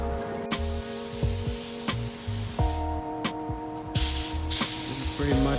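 Clear coat is sprayed onto a carbon mountain bike frame, a Yeti SB5, in short hissing bursts over a steady low mechanical hum, with louder spray passes near the end.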